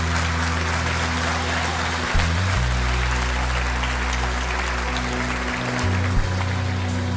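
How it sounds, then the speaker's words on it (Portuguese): Audience applause at a church service rolls on steadily for the whole stretch, a dense wash of clapping layered over sustained low keyboard tones. "Vamos aplaudir todo mundo."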